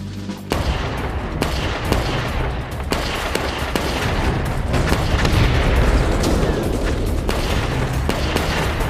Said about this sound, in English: With his men in place, Winters kick-started the attack with a small arms barrage.